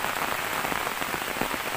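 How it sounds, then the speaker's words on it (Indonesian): Heavy rain pounds down steadily, a dense, close, continuous hiss of drops striking surfaces with no voices over it. "ini masih hujan keras nih"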